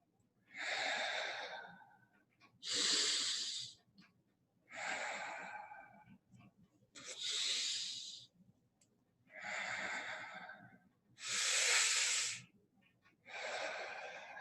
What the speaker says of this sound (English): Filling that chest, lifting our chest to the sky with each inhale.